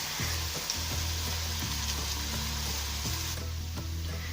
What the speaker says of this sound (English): we'll cook this until the onions become soft.